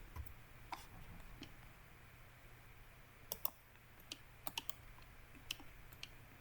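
Computer keyboard typing and mouse clicks, faint and sparse, a few separate taps and a small cluster near the end over a low background hum.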